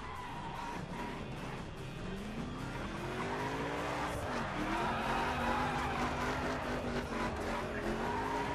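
A new Mercedes in The Crew racing game drifts hard, its tires squealing in long rising and falling wails over a steady engine roar that swells louder midway and holds close and continuous.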